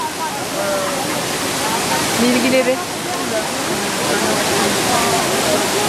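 Steady broadband rush of Düden Waterfall in Antalya, heard close and continuous, with a voice speaking briefly over the falling water.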